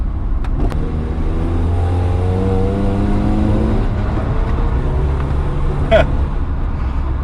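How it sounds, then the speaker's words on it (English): A small car with a loud aftermarket exhaust rumbles and revs nearby, its deep burbling drone rising and falling over several seconds amid road noise. "he's got a custom exhaust on his little Nugget, and it's quite boisterous to say the least"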